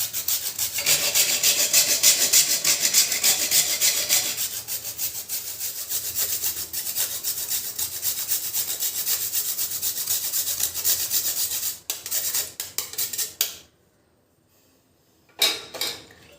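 A used Diwali clay lamp is ground into fine powder on a metal grater: steady, loud, close rasping strokes for about twelve seconds, then a short pause and a brief final burst, with no talking.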